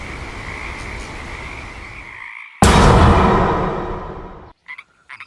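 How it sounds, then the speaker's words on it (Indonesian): Frogs croak loudly and steadily in a dense chorus, cut off abruptly and followed by a short burst of louder croaking, then a few brief calls near the end. "Katak adalah hewan yang bisa hidup di air dan di darat, atau dapat disebut sebagai amfibi."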